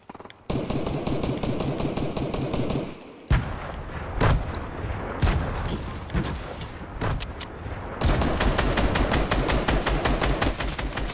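Video game combat with sustained rapid automatic gunfire, a sharp blast around the middle, scattered heavy shots and then another long fast burst, loud and close.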